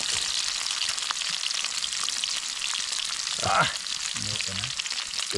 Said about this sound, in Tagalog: Tangi niluto na yung corned beef mga idol. Ano pa ito na? Tunog.